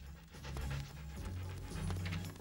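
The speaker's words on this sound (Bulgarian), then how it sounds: "Разкарай това псе, Зарао" A cartoon dog pants steadily in quick rhythmic breaths, close and fairly loud, with soft whimpering tones mixed in and no speech.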